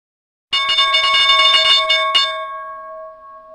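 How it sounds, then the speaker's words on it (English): A stock market opening bell rings in a rapid clattering series of metallic strikes for about two seconds, then a sustained tone fades away, loud and alone. "about 20 seconds before the opening bell"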